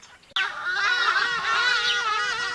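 Loud honking bird calls start abruptly and continue in a dense, overlapping chorus, close by, on an African safari.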